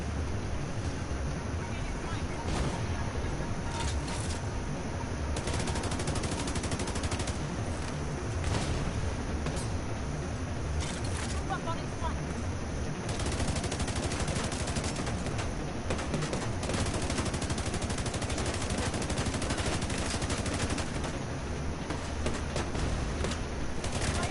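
Gunfire in the video game The Division 2, a constant dense din of combat with repeated shots and bursts over a loud background throughout, with a voice talking over it.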